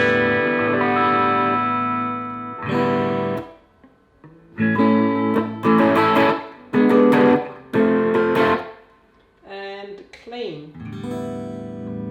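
Overdriven electric guitar chords through a Boss Katana-50 amp on its crunch setting ring out in short bursts with gaps between, a slightly gritty amplified tone that sustains and fades each time.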